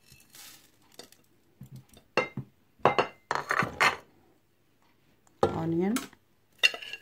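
Metal spoon clinking and scraping against a cooking pot while spices are mixed in for chicken shami kebab, in irregular clattering strikes with some quiet gaps and a voice partly over the stirring.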